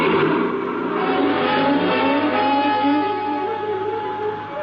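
A car in a 1950 old-time radio mystery drama accelerates away at speed, its engine roaring loud and steady for several seconds before easing off slightly toward the end.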